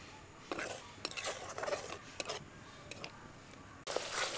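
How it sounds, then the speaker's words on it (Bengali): A spoon stirs beaten sour yogurt into spices in a pan over very low heat, giving soft scraping and a few light metallic clinks, quiet and close, with no talk. "এখন দইটাকে খুব ভালোভাবে মিশিয়ে নেব।"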